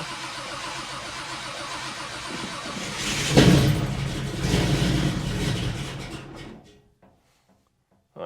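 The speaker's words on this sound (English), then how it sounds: "let's see if this thing will start" A 1957 Chevy convertible with tunnel rams cranks, catches and runs with a loud rough roar that holds for a few seconds, then cuts off to near silence.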